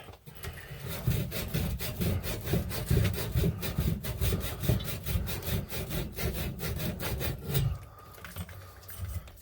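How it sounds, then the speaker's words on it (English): Wood being sanded by hand, a rhythmic back-and-forth scraping of steady strokes, close but fairly quiet, ending with a brief pause and softer rubbing. "now let's sand this"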